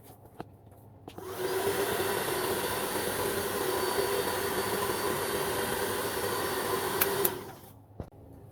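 A hair dryer blowing on hair switches on after a second and runs as a steady loud whoosh for about six seconds, then cuts off, with a few faint clicks around it.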